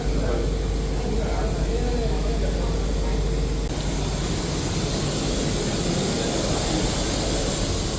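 A jet aircraft at an airport in Togo makes a steady, loud broadband roar and hiss that fills the whole stretch, shifting in tone partway through, with no clear talk over it.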